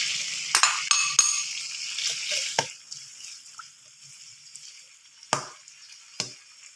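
Onions frying in hot oil in a kadai, a soft steady sizzle with a few sharp clatters of stirring near the start and two more later, fairly quiet and without talk.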